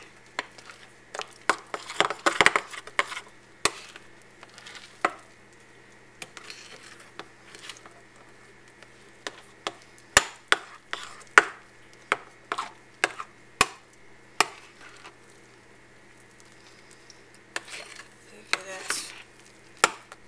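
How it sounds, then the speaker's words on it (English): Pumpkin pie filling for a chiffon pie being stirred in a bowl, giving scattered soft scraping and light clinking taps of the utensil, irregular and close, with quiet pauses between strokes. "Just stirring it in. Getting it well mixed in there."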